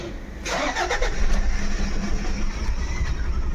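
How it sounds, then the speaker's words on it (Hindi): A Toyota Fortuner with an injector circuit fault and misfire cranks and catches, then settles into a steady, slightly uneven idle, close and loud with no talk. "एक बार गाड़ी को स्टार्ट करेंगे फिर से"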